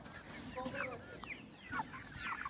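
Indian game chickens in a yard, clucking in short, close, fairly soft calls.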